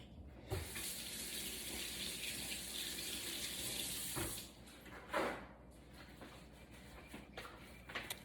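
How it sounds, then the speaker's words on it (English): Tap water runs steadily in a kitchen sink for about four seconds while a spoon is rinsed during breakfast oats prep, then the flow stops, followed by a few soft clinks and handling sounds. "let me rinse off my spoon"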